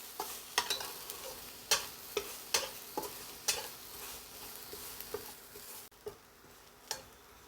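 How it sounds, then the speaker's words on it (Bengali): Chopped garlic frying in a little oil in a pan, with a steady soft sizzle under a series of sharp spatula scrapes and taps against the pan, evenly spaced and close by, with no talking. "সামান্য একটু তেল দিয়ে দিচ্ছি একটু কুচনো রসুন"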